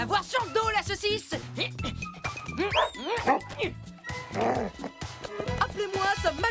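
Bill, a cartoon dog, yips and whimpers in short bursts among animated voices, his high rising yelps mixed in with lively French dialogue and other cartoon sounds.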